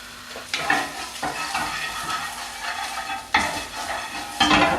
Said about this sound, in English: I'm just going to put a tiny little bit of butter in the pan